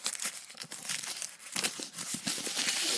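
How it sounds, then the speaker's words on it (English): Plastic packaging around a JBL On Tour Micro portable speaker is peeled open close by, with irregular crinkling and tearing bursts throughout and no talking. "Let's peel this open."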